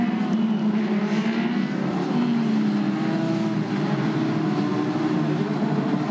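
Formula Renault Eurocup race cars running on wet tyres behind the safety car at the Nürburgring, a steady continuous engine drone with shifting tones throughout, no pauses.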